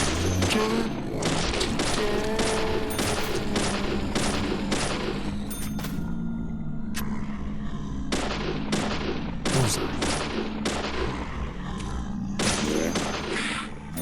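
Gunshots in the Deadly Premonition video game ring out as a long series of sharp, evenly spaced cracks, fired in quick clusters with short pauses, loud and close against a low background hum.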